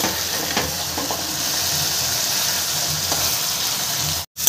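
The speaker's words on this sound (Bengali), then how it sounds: "মাছটা কিন্তু একদম ঝুড়ো ঝুড়ো হয়ে গেছে ভাজতে ভাজতে" Lote (Bombay duck) fish frying in a pan, cooked until dry and crumbly, giving a steady close sizzle and hiss with faint stirring clicks, no talk, briefly cutting out near the end.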